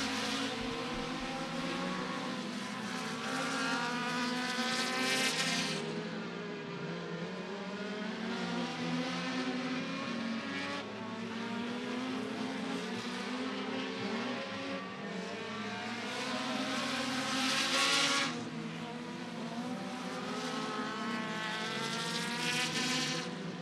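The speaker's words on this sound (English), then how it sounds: "the 74 car Laws gets pretty well up into the wall at turn number 1" Compact race cars run hot laps at Beckley Motor Speedway, with loud, continuous engine roar that swells and fades as cars pass in several waves. The sound is constant and layered, with no voices.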